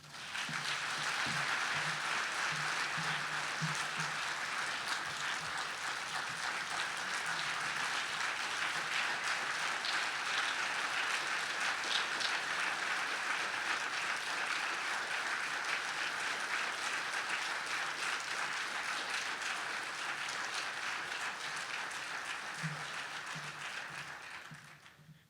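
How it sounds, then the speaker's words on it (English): An audience at a RAMP conference session gives a speaker a big round of applause, steady and dense, a broad sustained clapping lasting well over twenty seconds before tapering off at the end. "Give him a nice big round of applause one more time."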